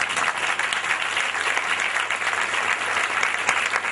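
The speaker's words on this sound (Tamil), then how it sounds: "கைத்தட்டுங்க அந்த ரத்தத்துக்கு" A Tamil church congregation applauds at a sermon on the power of Jesus' blood, a dense, steady wash of many hands clapping at once that holds an even level throughout with no pauses.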